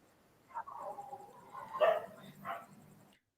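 A dog barks and whimpers in short yips over about three seconds, fairly close and moderately loud, with no talking.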